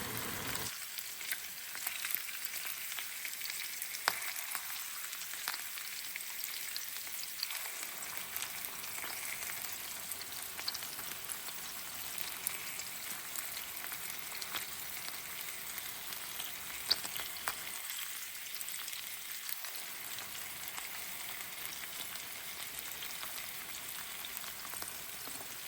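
Salmon fries in a hot skillet after being flipped, making a continuous fine sizzle that dips quieter in two spells, then returns, with no talking.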